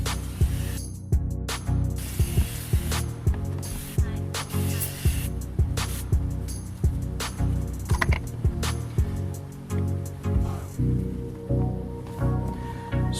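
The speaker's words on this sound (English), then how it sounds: "I'm going to spray it on." Rapid, rhythmic spritzes from a trigger spray bottle of glass cleaner onto a car windshield, pumped over and over at a steady pace, close by.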